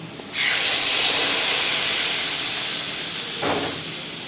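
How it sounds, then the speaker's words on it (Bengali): Hot water poured into a pan of fried taro and potato sets off a loud, sudden steaming hiss that holds steadily for several seconds, then swells briefly again near the end. "এবারে এর মধ্যে দিয়ে দেবো জল"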